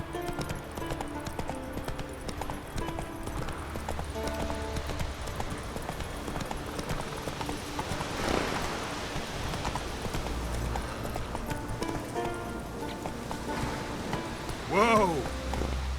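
Horse galloping in The Witcher 3, with hooves drumming steadily under music and game sounds, and a short whinny near the end.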